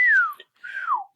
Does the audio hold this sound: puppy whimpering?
no